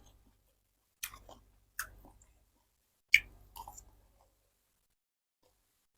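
Someone chews stir-fried pork with pickled bamboo shoots close to the mic, making a few soft, wet chewing clicks in separate bursts with quiet gaps between them.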